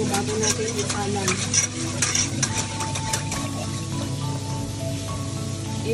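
Steady scraping and swishing as a cornstarch mixture for maja blanca is stirred in a pot, a continuous close-up texture with faint clinks throughout.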